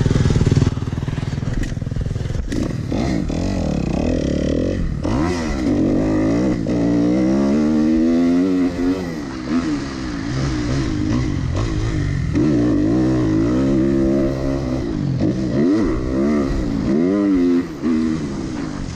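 A 250cc motocross dirt bike engine, 4-stroke or 2-stroke, on a Prairie City MX track, revving up and down in repeated rising and falling pulls, loud and close throughout.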